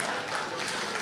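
Applause from a stand-up comedy audience in Portugal rises as a brief, dense burst of many hands clapping, steady and close, with no voices standing out.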